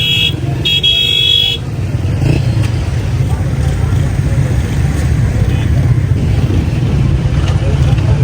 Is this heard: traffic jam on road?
yes